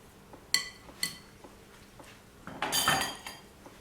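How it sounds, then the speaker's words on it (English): Jam drop biscuit dough is mixed by hand in a bowl: a few sharp clinks against the bowl, then a louder burst of close, scuffing rustle as the hands work the mixture, without speech. "What I'm going to do now is mix it up with my hands."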